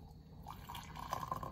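Hot water from a freshly boiled kettle pours into a cup, a soft steady trickle that rises slightly in pitch as the cup fills, close by but quiet, with no talking.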